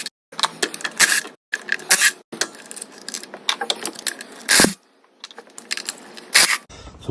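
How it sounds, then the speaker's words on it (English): Removing a bolt from a 2014 Toyota Prius V hybrid engine: a series of close, sharp metallic clicks, scrapes and ratcheting bursts in irregular rhythm, with short pauses between. "So I'm going to take this bolt out first."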